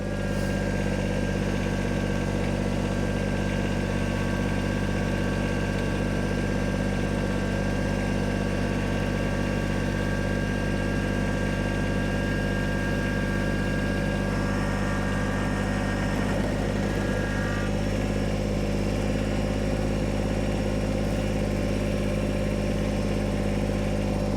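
A vehicle engine running in four-wheel drive in snow, a steady loud low rumble that holds throughout with slight shifts in tone, close by and without talk.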